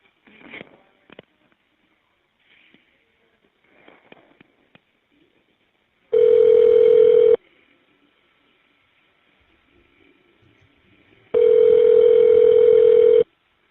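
Two long, steady, loud dial-type tones sound during a prison phone call as the number is dialed, each lasting about a second, separated by a pause, with faint rustling beforehand.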